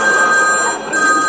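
A telephone rings in a home setting, a bright electronic tone that sounds continuously, dips briefly midway and then resumes, close and loud with no voices over it.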